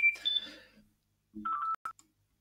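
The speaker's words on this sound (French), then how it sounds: "excusez-moi pour le téléphone" A phone sounds electronic tones indoors: a short beeping burst at the start, then after a pause a few steady clipped beeps, alone and fairly clear with no voices.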